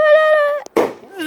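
A consumer fireworks cake rated at six shots goes off on Bonfire Night, giving a sharp loud burst with crackle shortly after a sustained whistle-like tone, followed by quiet.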